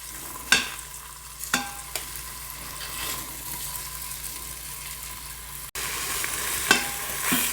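Chicken sears in an Instant Pot on saute mode, a continuous close sizzle broken by a few sharp clinks and scrapes of a utensil stirring or turning the pieces.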